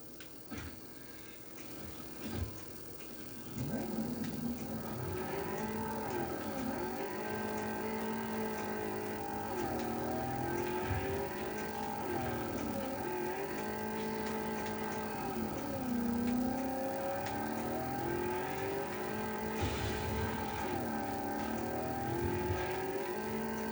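Car engine in Cyberpunk 2077 driving through Night City, a steady revving drone with shifting pitch as the vehicle accelerates and slows, continuous and fairly loud with no talking.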